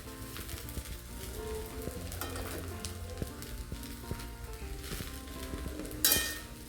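Green chilli paste frying with salt in ghee for sabudana khichdi, producing a soft crackling sizzle with scattered stirring taps and a louder burst of spitting near the end.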